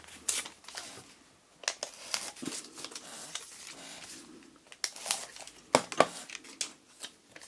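Paper is crinkled, shifted and pressed by hand while gluing a handmade card for Mother's Day, producing close, soft rustles and sharp taps scattered irregularly without any talk.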